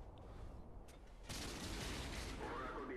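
A tank blows up in World of Tanks on PS4 with a sudden broad crackling burst that starts after a quiet moment and holds as a steady noisy rush to the end, fairly faint overall.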